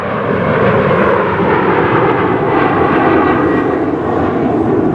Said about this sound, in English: there's an airplane over there